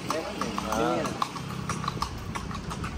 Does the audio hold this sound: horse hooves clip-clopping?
yes